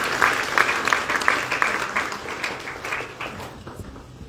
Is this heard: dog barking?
no